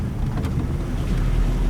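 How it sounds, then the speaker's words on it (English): A 1949 Chevy barn find with a rubbing rear tire drives through a creek, giving a steady close rumble of water churning and splashing mixed with low engine and wind noise, with no talk. "Oh, we're crossing a creek."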